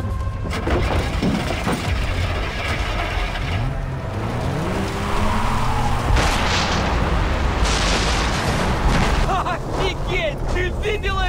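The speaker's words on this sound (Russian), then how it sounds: "Ты видела этот взрыв?" A loud explosion in the video game Far Cry 3 erupts amid gunfire and a car engine during a prison raid, with booming bursts and crashing debris under continuous dense game noise.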